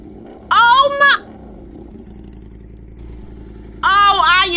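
Motorcycle engine revving in The Sims 4, a low steady rumble running throughout with harmonic buzz, interrupted by two bursts of a bright voice-like or music-like sound at start and end.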